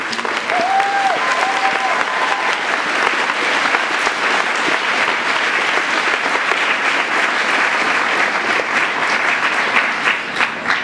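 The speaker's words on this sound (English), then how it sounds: "we're going to give a nice round of applause for giving so generously of his time" Sustained, dense applause from an audience at a Q&A event with author Neil Gaiman, loud and steady throughout with a brief faint tonal sound early on and no talk.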